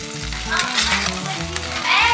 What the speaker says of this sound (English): I'm gonna saute that here for a little bit.